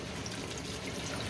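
Water pours into a pan for Japanese simmered eggplant, a brief soft splashing trickle heard alone and fairly quiet.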